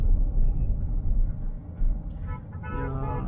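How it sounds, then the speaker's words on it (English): A Hyundai Venue diesel with manual gearbox spins its wheels, giving a loud, steady low engine rumble and tyre roar with a brief higher tonal whine near the end; nobody speaks. "Let's check the wheel spin again."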